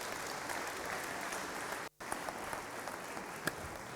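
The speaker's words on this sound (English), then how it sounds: "please give them a round of applause" Sustained applause from an audience at an HR leadership summit, dense and steady for the whole stretch apart from a brief dropout near the middle.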